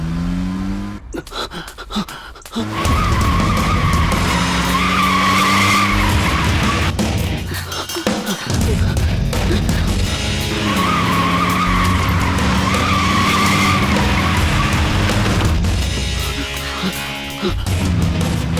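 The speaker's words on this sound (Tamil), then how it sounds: "ஏய் ஸ்டார்ட் பண்றா. வண்டி எடு." A car starts and tears away with loud, sustained tire skidding and engine roar, close and continuous, dipping briefly before squealing again.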